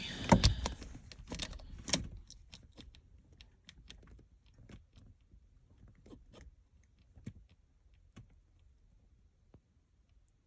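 A worn, loose gear shifter on a 1995 Ford Ranger being moved into gear: a quick cluster of clunks and rattles up front, then scattered light clicks and ticks fading over several quiet seconds, close up with no voices.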